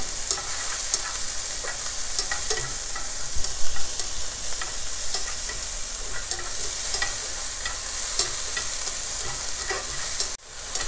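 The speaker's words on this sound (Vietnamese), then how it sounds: "Rồi mình xào khoảng chừng 2 phút rồi" Mushrooms stir-fry in a pan for a vegetarian clam-and-basil dish, giving a steady broadband sizzle with scattered spatula scrapes and light clicks throughout, close and even, without speech.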